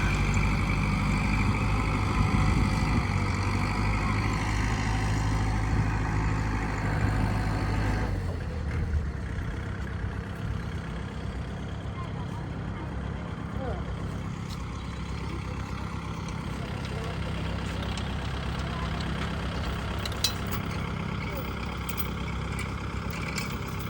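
Farm tractor stuck in a muddy rice paddy idles with a steady low diesel rumble, louder at first and then settling into a quieter, continuous drone for the rest of the stretch.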